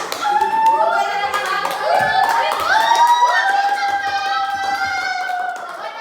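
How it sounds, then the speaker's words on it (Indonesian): Classroom of students during a microteaching lesson clapping together, loud and close, mixed with excited high children's voices and shouts over several seconds. "Ya, boleh tepuk tangan"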